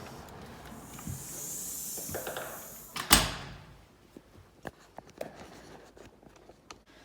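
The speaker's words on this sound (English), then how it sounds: "So I'm going to open the door" The front door of an empty house opens with a sharp click and rattle of the latch, followed by faint creaks and shuffling in a quiet, echoing interior.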